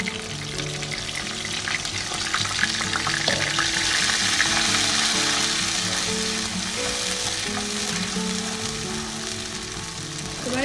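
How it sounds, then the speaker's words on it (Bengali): Ginger and green chilli paste fries in hot oil in a pan, a loud, steady sizzle that crackles and hisses continuously with occasional stirring scrapes and no voices. "এটাকে আমি একটু ভাজা ভাজা করে নেব"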